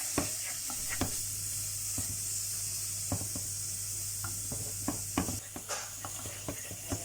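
Spices sizzle steadily in hot oil in a pan while a utensil stirs and scrapes in scattered clicks, cooking for a Bengali fish curry with mango, Kesari fish; no voices.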